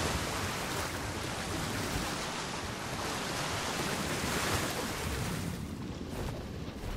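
Water in a pond in Ark: Survival Evolved gives a continuous broadband wash like surf and wind, steady and fairly loud, with no talk over it.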